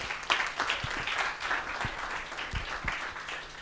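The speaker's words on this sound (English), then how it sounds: "So please give a round of applause to our speaker of the day" An audience applauds the speaker of the day at a fundraising talk, a short burst of dense clapping with a few louder individual claps, fairly close.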